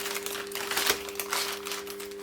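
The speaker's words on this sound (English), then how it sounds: "So all I like to do is just unwrap it like that," Plastic wrap crinkling as a frozen chicken sandwich is unwrapped, a short close run of crackly rustles with one sharper crunch partway through, over a steady low appliance hum.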